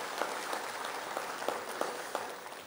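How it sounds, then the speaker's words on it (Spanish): A crowd claps steadily throughout at a ceremony where Indigenous groups present symbols to Evo Morales, a dense patter of hands with a few sharper individual claps standing out, moderately distant. "Un aplauso para ustedes,"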